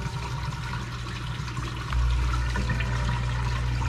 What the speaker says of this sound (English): So now I can turn on my aerator.